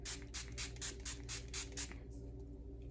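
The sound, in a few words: spraying face mist from a spray bottle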